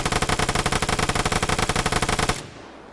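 A Vigor light machine gun in a video game fires one steady, fast automatic burst of evenly spaced, loud, close shots for over two seconds, then stops, leaving a short fading echo.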